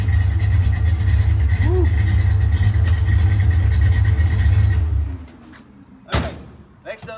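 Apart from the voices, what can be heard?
Foxbody Mustang V8 engine revving with Flowmaster exhaust, X pipe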